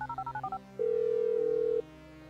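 A mobile phone in GTA V being dialed: a quick run of short keypad tones, then a single steady ringing tone held for about a second, clear and alone.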